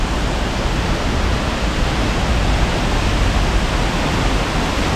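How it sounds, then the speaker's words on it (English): Lone Creek Falls in Sabie gives a dense, unbroken roar of falling water, loud and steady throughout with no pauses or voices. "The Long Creek Falls."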